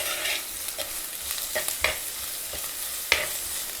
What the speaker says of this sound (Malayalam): ഇതൊന്ന് നന്നായിട്ട് വഴറ്റി വരണം.